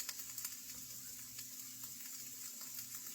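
Ground turkey and onions frying together in a pan, a steady close sizzle with faint crackles and occasional soft clicks throughout, no voices.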